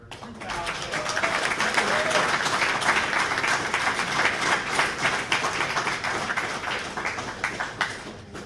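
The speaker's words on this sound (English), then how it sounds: "So a round of applause for our 2000." Audience applause at a school district board of education meeting, sustained clapping from a roomful of people at a steady level throughout, with voices mixed in.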